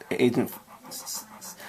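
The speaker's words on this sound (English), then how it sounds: "if you hear that breathing, that's my dog" An excited dog pants in short rapid breaths, quick bursts repeating close to the microphone, early on with heavier rasping huffs.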